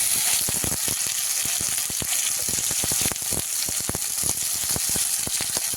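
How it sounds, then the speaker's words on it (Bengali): Fish coated in turmeric and salt fries in a pan with a dense, continuous crackling sizzle full of rapid sharp pops, close and fairly loud, with no talking. "মাছটাও ভাজা হয়ে গেছে প্রায়"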